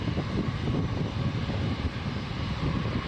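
American Airlines A320 airliner at Toronto Pearson airport, a loud, steady, broadband jet engine roar that fills the whole short stretch with no talk.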